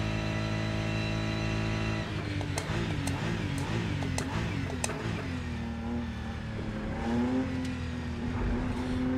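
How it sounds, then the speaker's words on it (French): A BMW M4 race car engine in the racing game Rennsport holds a loud, steady high-revving drone, then drops into fluctuating, shifting revs with brief sharp clicks, heard alone and up close. "Allez, on va faire un dernier tour avec la BM."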